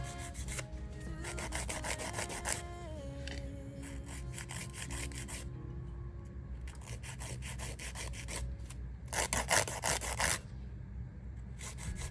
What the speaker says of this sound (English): I do also go ahead and lightly buff the free edge so that the base and top coat have something to stick to.